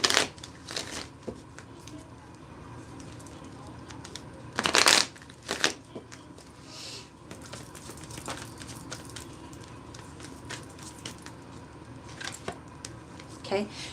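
A tarot card deck being shuffled by hand, with crisp riffling bursts and softer card shuffles scattered among quiet pauses, close and fairly faint.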